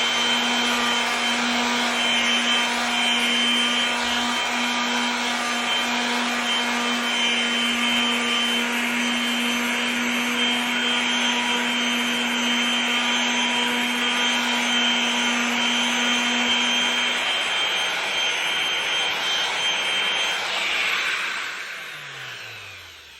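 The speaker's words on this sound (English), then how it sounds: "Let's grind this corner again." A flat Aurora topcoat surface is sanded to level a scratch groove, a long, steady abrasive rubbing with a tool hum running loud and continuous before fading out at the end.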